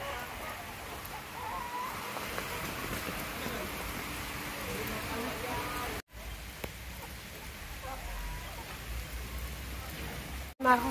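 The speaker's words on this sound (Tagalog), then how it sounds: "hindi pa talaga tumitigil yung ulan dito" Heavy rain pours steadily on a flooded farm, a dense continuous hiss with patter on surfaces, with brief dropouts and faint background fowl sounds.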